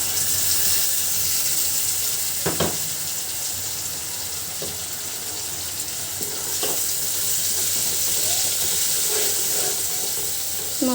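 Spice paste for an egg curry fries in hot oil with a dense, steady sizzle. Occasional clinks and scrapes of stirring sound close by, with no talk.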